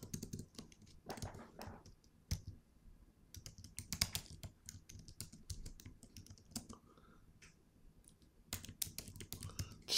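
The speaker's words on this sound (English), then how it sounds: "So I'm going to type in autoresponders." Fingers tap out a search term on a computer keyboard, close up and quiet, with irregular bursts of clicky keystrokes separated by brief pauses.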